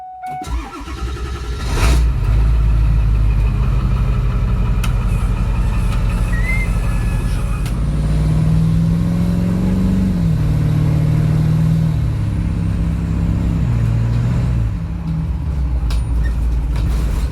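A motorcycle-hauling bus's engine cranks and starts, then settles into a heavy, close idle that swells into revs as the bus pulls away.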